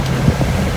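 Wind blowing over a boat out on the ocean at a diving site, a steady low rumbling buffet with no speech.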